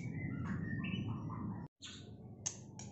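Male white-rumped shama songbird in stock at a bird dealer, giving a series of bright chirps and short whistled phrases, close and clear, with a brief gap midway before resuming.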